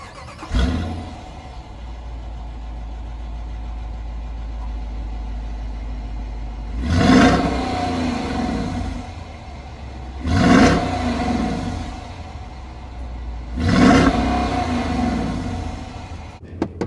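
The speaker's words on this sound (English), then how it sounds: "That sounds great when you fire up that V8 engine." A 2020 Dodge Durango R/T's V8 engine idles with a low rumble and then revs hard three times, each burst roaring up and fading back, loud and close.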